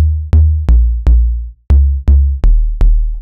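A deep synth bass made in Serum, with a filter cutoff applied, plays a steady pattern of eight plucky notes, each with a bright attack that quickly darkens, with a short gap in the middle.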